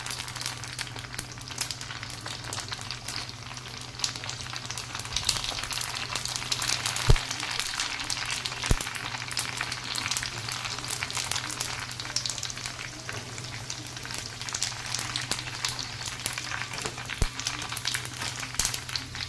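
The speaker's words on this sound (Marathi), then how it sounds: "तर चांगल्या ब्राऊन रंगावर आपल्याला या तळायच्या आहेत" Pani puri puris deep-frying in hot oil until browned on both sides give a steady, dense sizzle that runs unbroken throughout, with a few sharp clicks from a utensil and no voices.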